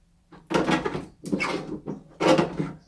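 Toilet door in a home swung open and shut: three close, fairly loud wooden creaks and thuds in quick succession.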